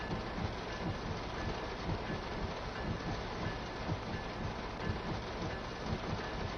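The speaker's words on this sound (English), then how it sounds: "it really does sound like that rain smacking on top of a locomotive." Rain drumming on top of a locomotive in the train simulator game Train Sim World 4, a steady, moderately loud wash of rainfall with faint low pulses beneath it and no talking.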